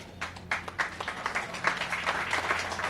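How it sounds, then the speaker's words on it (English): An audience at a graduation and awards ceremony applauds, a dense, steady patter of many hands clapping at once. It swells slightly and continues for the whole span, with faint crowd murmur beneath. "that definitely deserves a round of applause"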